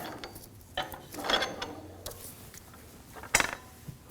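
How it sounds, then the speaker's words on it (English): A ratchet snugging down the jam nut on the inner tie rod of a 2001-2009 Volvo S60, a few quiet, scattered clicking bursts with metallic knocks, close but faint, no talk. "Now tighten down the jam nut"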